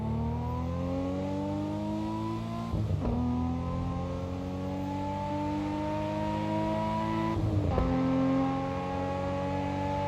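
Dallara EXP race car in Assetto Corsa EVO at Watkins Glen, its engine droning loudly and steadily with rising revs, two brief dips around gear shifts or braking, with no talk over it.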